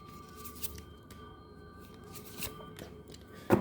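Tarot cards are shuffled by hand during a reading, with soft, faint riffling and light papery taps that end in a sharper, louder snap, and no talking.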